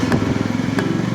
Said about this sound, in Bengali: নতুন বাইকে ফার্স্ট রাইড